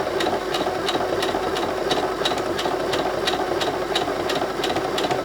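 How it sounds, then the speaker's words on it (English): A sewing machine stitches twine cord inside bias tape in one continuous, loud run, its needle ticking in a fast even rhythm over a motor hum. "we're just going to start stitching"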